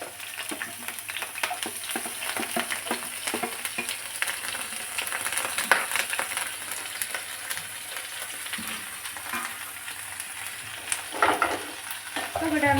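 Shallots and curry leaves sauté in hot oil with a continuous close sizzle, broken by irregular scraping and stirring clatter from a utensil in the pan.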